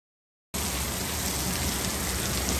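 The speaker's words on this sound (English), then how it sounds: "look at the rain coming down right here" Steady rain pours down over a yard, a dense, even hiss that starts abruptly after a half-second of silence and holds at constant loudness without any voices.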